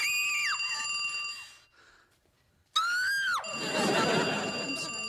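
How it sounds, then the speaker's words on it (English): High shrill screaming from a TV show scene, with two long wailing screams separated by a brief quiet gap, the second ending in a burst of loud, noisy shrieking. "There is one good joke where there's like competitive screaming."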